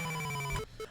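A landline telephone bell rings loudly and close, a steady metallic trill that cuts off abruptly partway through, followed by a brief fainter ring tone.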